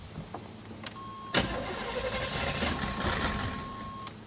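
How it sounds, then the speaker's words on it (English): Square body Chevrolet C-10 truck engine cranking then catching, a sharp start followed by a rough, loud idle with a steady whine running through it, close and alone. "Oh, it started, but what was that noise?"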